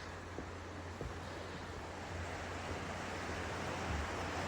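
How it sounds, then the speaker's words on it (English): The Lackawanna River flows beneath a bridge at night, a steady broad rushing wash with a low rumble, heard from above with faint wind and no talking. "And below the bridge is the Lackawanna River."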